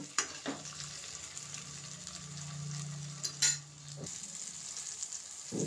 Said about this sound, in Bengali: ভালোভাবে নেড়েচেড়ে ভেজে নেব।